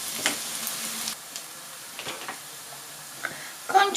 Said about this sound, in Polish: A tu niech się smaży.